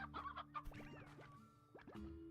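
Hens in the video game Slime Rancher give a quick run of close, bright clucks and short squawks, several in succession, with a faint steady hum underneath.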